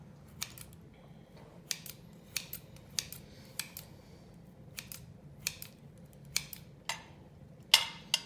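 Kitchen shears snip through dried beef in a quiet kitchen, giving a regular series of crisp, close metallic clicks about every half second, with one sharper snap near the end.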